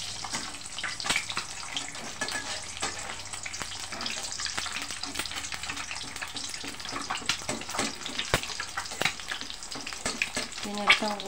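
Breakfast food fries in oil in a wok, crackling and popping continuously with sharp spattering bursts over a steady sizzle at close range.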